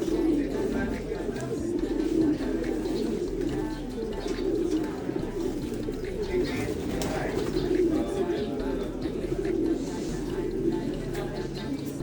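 Pigeons in a racing pigeon loft with breeders and flyers, cooing repeatedly in low rhythmic bursts close by, with people talking over them.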